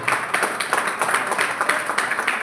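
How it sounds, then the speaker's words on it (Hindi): Audience clapping at a celebratory party gathering, a dense, steady patter of many hands close by, continuous for a couple of seconds with no voices over it. "आप लोगों के लिए तालियों की जरूरत है।"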